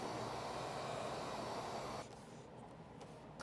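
A heat gun blows hot air over a tailgate gap cover strip, a steady loud broadband whoosh that cuts off about two seconds in and leaves a quieter hiss behind.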